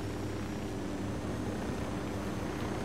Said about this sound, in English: Park the helicopter right here.